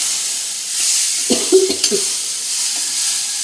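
Sprouted mung beans sauté in a pan with a steady soft sizzle, broken by a brief burst of spatula scraping and stirring clatter in the middle.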